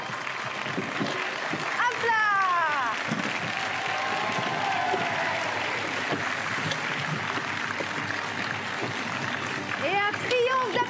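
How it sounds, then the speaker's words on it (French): Audience applause for a stage magician's partner, dense sustained clapping from a large crowd filling the whole stretch, loud and even, with scattered cheers and whistles. "Applaudissements pour mon partenaire, Stéphane."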